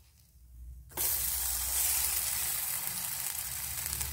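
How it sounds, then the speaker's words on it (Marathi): A mung bean pancake sizzles steadily in a little oil after being flipped, the hiss starting abruptly about a second in and continuing loud and even to the end. "आता आपल्याला इकडून परत 2-3 मिनिटं त्याला मस्त असं भाजून घ्यायचं आहे"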